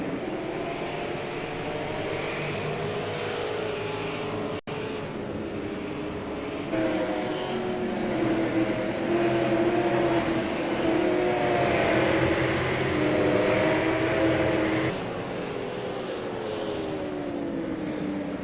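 Super late model race cars roaring around Stafford in the SARA GM Parts XPerts series, a steady engine drone with rising and falling revving as cars pass on the backstretch, continuous and moderately distant.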